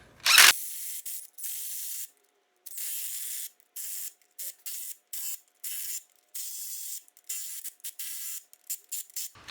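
Bolts run in and out of threaded holes to clean the threads on an Allis Chalmers 190XT tractor's rear wedge center, giving repeated bursts of air-tool whirring and ratcheting with short gaps between them, close and loud.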